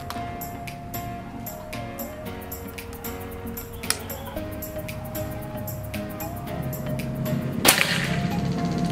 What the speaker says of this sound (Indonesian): Oke, lanjut ke tembakan ketiga.